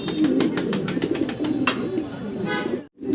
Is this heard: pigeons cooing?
yes